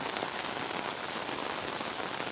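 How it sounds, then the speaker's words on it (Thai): Steady rain pours down during a rainy-season night in rural Thailand, a dense, even hiss of drops on surfaces that holds constant throughout without any voices. "ช่วงนี้ฝนตก"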